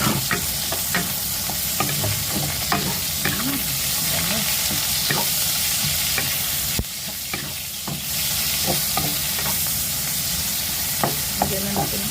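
Garlic and onion sauté for a Filipino mung bean (monggo) dish, with steady loud sizzling and repeated spatula scrapes and stirs against the pan throughout.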